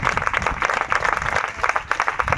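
A congregation at a Telugu church sermon claps in a dense burst of applause that runs loud and steady throughout, with no voices over it.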